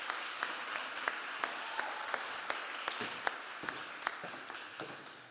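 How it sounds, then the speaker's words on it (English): Audience applause for a conference panel, a moderate room of clapping with distinct sharp hand claps standing out over a steady patter, continuing evenly and tapering slightly at the end. "A warm round of applause,"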